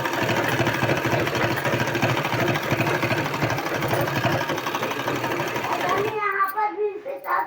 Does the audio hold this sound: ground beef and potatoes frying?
no